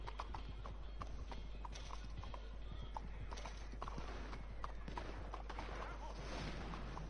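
Horse hooves clip-clop steadily in the Red Dead Online video game, a continuous close rhythm of light hoof strikes at moderate volume with faint speech in the background.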